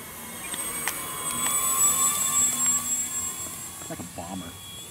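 A FlightLine P-38L Lightning model aircraft flies overhead with a steady engine whine that swells and fades, while people talk nearby.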